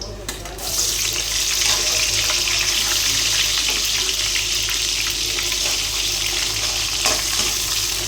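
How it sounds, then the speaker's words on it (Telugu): Sliced onions hit hot groundnut oil in a kadai seasoned with cloves and cinnamon, setting off a loud, steady sizzle with a brief quieter moment at the start and occasional stirring clicks. "ఇప్పుడైతే ఉల్లిపాయలు వేసేద్దాం ఇందులో"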